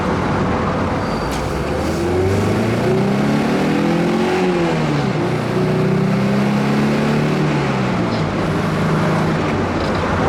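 A Triumph TR7 sports car's four-cylinder engine runs steadily with a rough, throbby note, revs rising and falling slowly, loud and close throughout.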